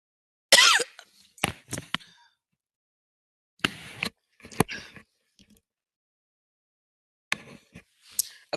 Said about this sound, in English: I'm in a bit of a coughing fit today.